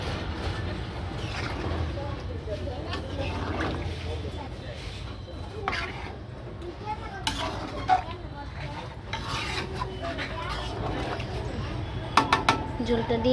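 Meat curry cooking in a pot as broth is added, with steady stirring and scraping against the pot over a constant low rumble, a few clinks near the end.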